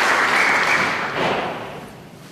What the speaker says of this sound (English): Well appreciated by the crowd